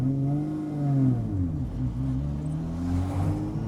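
An RB20-swapped AU Ford Falcon engine revs hard and steadily, its rising and falling harmonic whine close and loud throughout, with no talk over it.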